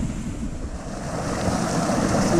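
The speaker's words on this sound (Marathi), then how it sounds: "हा पण जबरदस्त पाणी वाहता" Rainwater from the first monsoon rain rushing strongly along a stream where crabs are being caught, heard as a loud, continuous broadband roar close to the microphone with steady wind buffeting and no talking.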